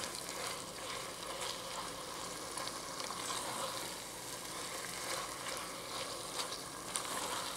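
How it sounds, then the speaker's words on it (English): Ground meat browning in a pan with onions, oil and garlic, a steady close sizzle with occasional stirring scrapes running throughout at low volume, no talking. "So I'm just going to break it up and mix it and kind of brown it in my onions and my oil and"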